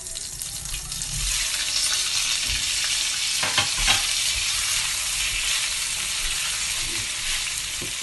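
Kozhukattai dumplings dropped into sizzling tempering in a pan, a steady close fry hiss with a few stirring scrapes and clinks midway, no voices.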